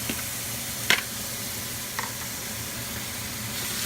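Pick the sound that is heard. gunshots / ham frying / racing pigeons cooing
ham frying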